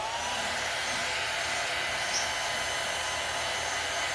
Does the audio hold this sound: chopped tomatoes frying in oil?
no